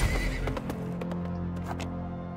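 A horse whinnies and its hooves clip-clop in the Weird West video game, the neigh carried over steady ambient game sound with scattered hoof beats.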